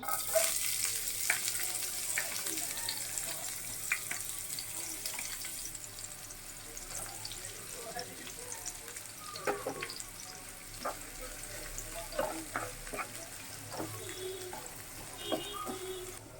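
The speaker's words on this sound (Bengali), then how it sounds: "পেঁয়াজটা আমার এই যে ভাজা হয়েছে।" Chopped onions sizzle steadily in oil for an eggplant and dried lotte fish curry, with scattered pops, clinks and stirring, plus a faint trickle of water in the background.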